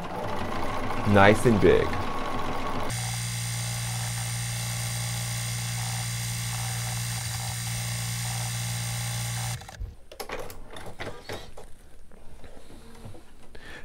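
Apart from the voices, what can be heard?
Bernina 770 Plus embroidery machine stitching out a letter K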